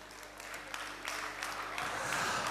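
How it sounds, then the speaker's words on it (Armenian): Wedding guests applaud after a toast at an Armenian wedding reception. The clapping is dense and steady and swells toward the end, with indistinct voices underneath. "ծափարենք։"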